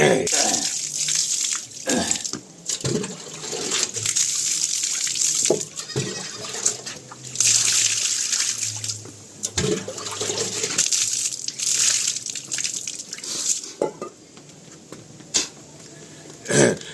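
Water is poured and splashes during a yogic nasal cleansing routine, coming as repeated running and splashing bursts with short pauses over about seventeen seconds, fairly close.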